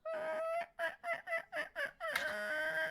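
A human voice imitates a chicken with a sustained squawk, a run of rhythmic clucking bursts, then a long drawn-out cackling call. The sound is close and loud with no other talk.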